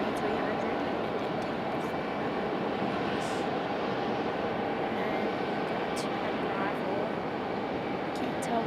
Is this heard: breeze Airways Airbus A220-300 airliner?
yes